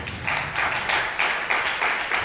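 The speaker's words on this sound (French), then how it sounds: "Merci de l'applaudir, s'il vous plaît." Short burst of applause from an audience at a singing competition, with rhythmic, pulsing claps in a steady beat at moderate volume.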